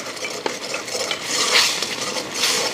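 A utensil stirs an egg rice bowl mixture in a pan, giving soft scraping and light clinks over a faint sizzle, close and continuous for a few seconds with no voices.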